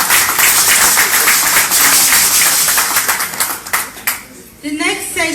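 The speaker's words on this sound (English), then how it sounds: "Please give him a clap." Audience clapping at a book launch in London, loud and dense at first and then thinning out, with a few scattered claps and a voice starting to speak near the end.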